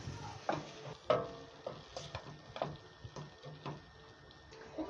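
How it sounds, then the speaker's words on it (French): Carrots stirred in a pan with parsley, garlic and bell pepper, quiet irregular scrapes and taps of a utensil against the pan over a faint background, with no voice. "le persil et le poivron. Et remuons le tout."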